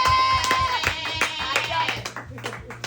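Congregation clapping for Jesus at a church service, a dense run of handclaps with music and voices mixed in, fading slightly toward the end.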